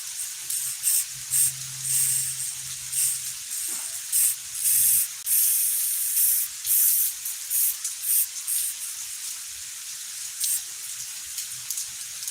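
Spray can of black paint hissing out in repeated bursts of varying length, some short and sputtering, others sustained, close up with no talking.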